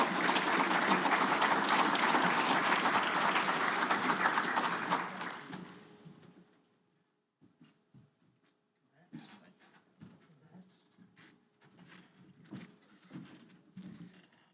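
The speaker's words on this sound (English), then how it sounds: "y'all give them a round of applause" A crowd at an electric cooperative's annual meeting claps loudly for about six seconds, then the applause fades out and leaves quiet room noise with scattered soft knocks and shuffles.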